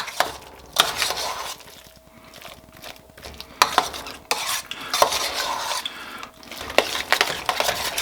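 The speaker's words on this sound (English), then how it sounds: "I'm just going to stir this all in here to get those seasonings well mixed in." Spoon stirring salt and black pepper through mashed potatoes in a pot, a steady scraping and clinking rhythm with sharper knocks against the pot's sides, close and fairly loud with no voices.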